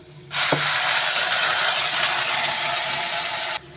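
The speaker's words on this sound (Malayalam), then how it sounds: "എണ്ണ ചൂടായിട്ടുണ്ട് കേട്ടോ നമുക്കിനി ഇതിലേക്ക് കടുകിട്ട് കൊടുക്കാം" Mustard seeds dropped into heated oil for a Kerala jackfruit seed curry tempering, a sudden steady broadband crackle and sizzle that starts abruptly, holds loud and even for about three seconds, then cuts off.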